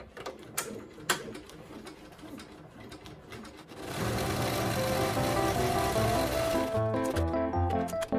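A multi-needle embroidery machine stitches an in-the-hoop hand sanitizer holder. A few scattered clicks come first, then the machine starts up into a steady close whirring hum with a fast repetitive stitching pulse.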